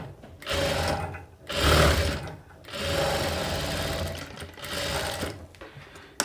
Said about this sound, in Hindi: और इस पे एक प्रेस सिलाई ऊपर से लगा देते हैं